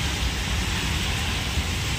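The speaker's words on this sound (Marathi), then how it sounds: "हे बघा, इतकं मोठं पाऊस पडतोय." Heavy rain pours down steadily outdoors near a canteen, a dense, loud, continuous hiss of drops with no pauses or other clear sounds.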